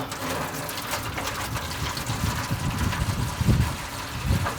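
Water pours steadily into the water pan of a smoker set up for a corned beef brisket flat, a continuous close gushing splash with no talking.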